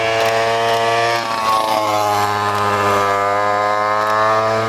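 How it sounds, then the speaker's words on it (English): A little two-stroke engine on a motorized bicycle buzzes loud and close, a raspy high-pitched drone that dips briefly and then climbs in pitch as it revs up. "A bicycle with a motor."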